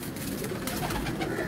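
Pigeons on a rooftop cooing in a low, soft, continuous burble close by, with no talking.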